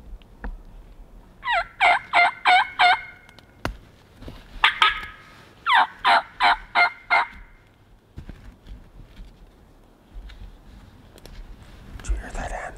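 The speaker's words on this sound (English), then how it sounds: "Did you hear that hen? Pretty sure that was a hen." A wild turkey hen calls in the Minnesota woods with two runs of five to six evenly spaced yelps, fairly near and clear, followed by quieter rustling.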